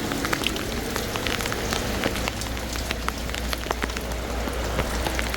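Steady rain falls outdoors over grass and yard, a dense continuous patter with scattered louder drips close by, no voices.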